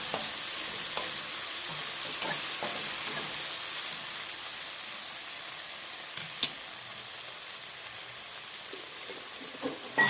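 Tomato and five or six green chillies fry in a pan for gongura curry, giving a continuous close sizzle and hiss with occasional stirring scrapes and small pops.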